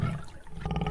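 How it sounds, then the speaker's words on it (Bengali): A tiger gives a brief, low roar from a distance near a river where a boat is being taken out to fish. "ওই দেখো বাঘে ডাকছে"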